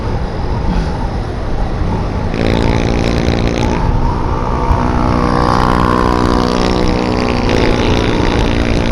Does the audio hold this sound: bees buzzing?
no